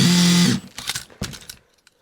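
Makita DFR551Z 18V brushless cordless auto-feed screwdriver driving a self-threading stainless steel screw: a short close whine of the motor, then a few clicks and rattles as it stops.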